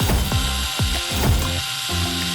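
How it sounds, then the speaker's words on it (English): Power drill driving screws into cardboard, giving rapid ratcheting clutch clicks in a quick repeated rhythm of about six bursts, close and loud. "Put nails in the cardboard and screw them with a drill!"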